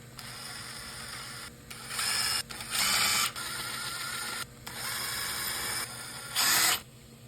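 A ratchet clicks in several quick bursts, with short pauses between them, as it backs out the side cover bolts on a Predator 212cc engine, close and loud.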